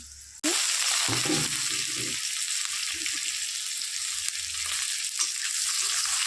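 Whole tempering spices hit hot oil for a rui fish curry: a sudden loud sizzle bursts in and keeps crackling steadily up close, while low murmuring voices sit underneath.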